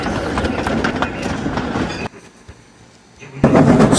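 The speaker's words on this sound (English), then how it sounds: "Edward was puffing smoothly down the line." A train engine setting off down the line, with steady rhythmic clickety-clack of wheels on track that drops away briefly to a quieter rumble before returning loud and close.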